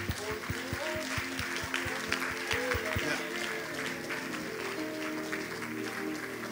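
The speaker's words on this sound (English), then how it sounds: "Give the Lord a clap offering." A church congregation claps in a steady rhythm for about three seconds over music and voices, then the clapping gives way to sustained music and crowd noise.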